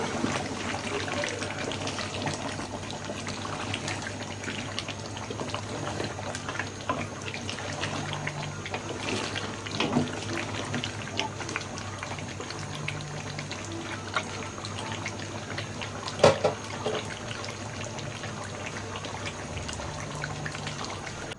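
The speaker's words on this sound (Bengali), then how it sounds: "এই যে দেখেন মাংস আমি কষাচ্ছি" Meat sautés and simmers in a pot, giving a steady watery bubbling hiss with faint ticks and one brief louder knock, moderately close and continuous throughout.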